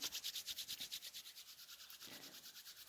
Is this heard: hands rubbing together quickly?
yes